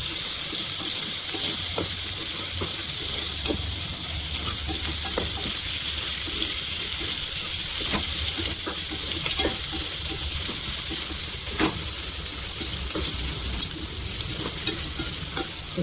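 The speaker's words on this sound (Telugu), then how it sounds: "బాగా వేగుతుంది ఉల్లిపాయ కలర్ వస్తుంది" Onion frying with a little salt in a pan for mushroom biryani, a constant loud close sizzle with scattered stirring ticks throughout and no talking.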